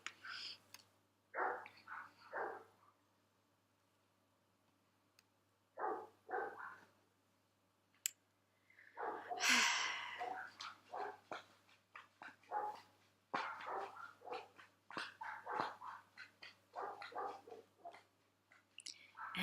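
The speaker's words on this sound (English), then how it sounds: "now we enter the part of the day where my dog doesn't stop barking" A dog barks in repeated bursts from nearby, starting in short separate volleys and then going into a long, near-continuous run of loud barks, with a whimpery edge at times and a person's voice now and then.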